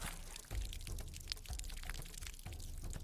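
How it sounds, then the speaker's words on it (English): Water from a big pipe leak in a remote community gushes in a steady, rushing flow, fairly close, with no voices. "For big water leak."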